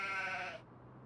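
A single short sheep bleat rings out in the Farming Simulator 25 farm game, fairly faint and cut off abruptly, with nothing after it.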